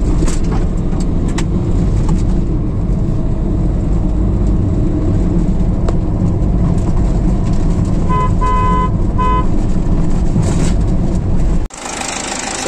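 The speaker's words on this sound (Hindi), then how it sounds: "आप देखो मैं अभी थोड़ा भागाता हूँ गाड़ी को" A Ford EcoSport TDI with a newly replaced timing belt is driven through traffic, its steady engine and road noise continuous throughout, with a brief horn-like tone near the end before the sound drops off.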